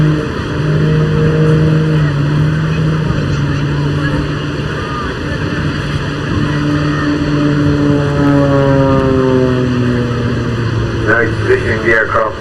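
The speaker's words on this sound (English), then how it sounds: "Now he's positioning the aircraft for some of his final maneuvers." Pitts aerobatic biplane fitted with a jet engine performing its display at the English Riviera Airshow 2023, a steady loud engine drone with sweeping pitch changes as it manoeuvres, heard under continuous commentary.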